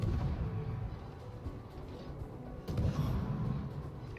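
Warship guns firing in a naval battle video game, heard as repeated heavy low booms and rumbling blasts over a steady dense background, with a stronger burst of firing near the end.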